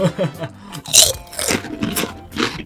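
Crunchy Jagarico potato cheese snack sticks are bitten and chewed close up, with a few sharp crisp crunches in an irregular rhythm and no speech.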